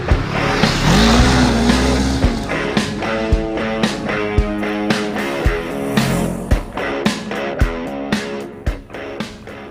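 A Honda CB500X crossover motorcycle accelerates hard, its engine note rising and climbing through gears, loud and close, with sharp intermittent clicks and thumps punctuating the run.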